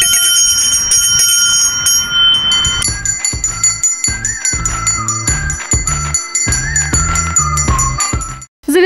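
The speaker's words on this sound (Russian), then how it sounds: "Звучи последний звонок." School bell ringing for the last bell ceremony at the end of the school year, a loud metallic electric ring that sounds in repeated bursts with brief gaps, bright and near, with no voices.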